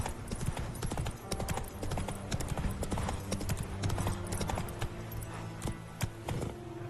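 Rhythmic horse hooves clip-clopping steadily in The Witcher 3, a continuous trotting beat with background music running underneath.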